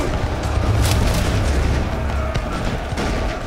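Musket volleys ring out in a samurai-era battle at Okehazama, a steady rumble of booming shots and crackling fusillade that rolls on without pause, heavy low thuds under scattered sharper reports.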